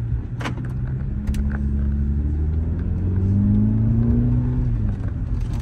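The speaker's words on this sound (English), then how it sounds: "Nice and smooth acceleration. Transmission shifts flawlessly." Car accelerating steadily with a smooth transmission shift, a loud continuous low engine rumble whose pitch climbs and then eases as the gear changes, heard close with no talk.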